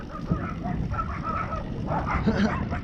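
A dog in a truck yips and barks a few times at moderate distance, short sharp calls over a noisy, rumbling background.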